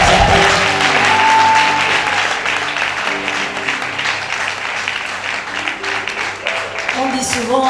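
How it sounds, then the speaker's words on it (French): Sustained audience applause fills a tribute ceremony hall, steady and loud throughout, with voices and bits of music or speech faintly audible beneath the clapping. "Et je vous demande de vous applaudir."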